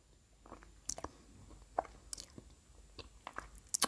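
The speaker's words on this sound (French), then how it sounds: "Attendez, il faut que j'avale mon bonbon." Candy being chewed close up, with scattered crunchy bites and soft mouth clicks in a quiet room, no talking.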